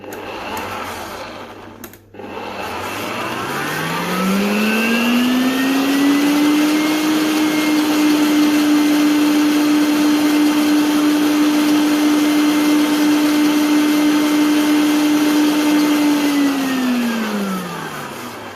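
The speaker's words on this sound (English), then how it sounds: "I'm just going to give it a mix." An electric hand mixer whirs through red velvet cheesecake brownie batter, revving up to a loud steady motor drone that holds evenly for over ten seconds, then begins to wind down, with no talk over it.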